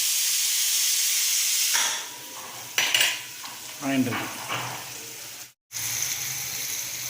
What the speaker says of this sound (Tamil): எல்லாம் வதங்கினே வருது